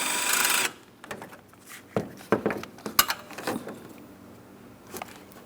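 A tool works a 10mm mounting bolt during radiator removal on a 2008-2016 Chrysler Town & Country 3.8L V6: a short buzzing run up close, then scattered sharp metallic clicks and knocks.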